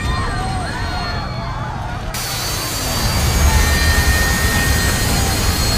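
Jet engine roar from an X-Plane 11 flight simulator aircraft accelerating, a steady broadband rumble that swells louder in the second half, with faint talk underneath.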